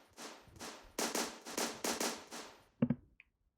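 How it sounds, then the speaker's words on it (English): A sampled gunshot from a sound library, played as a series of sharp, cracking bursts about half a second apart, followed by a brief louder crack and then near silence. "I just layered it with a literally a gun shoot"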